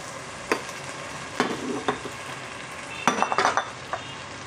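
Batsoy broth comes to a boil in a pot, a soft bubbling simmer punctuated by several clinks and scrapes of a utensil against the pot, with no talking.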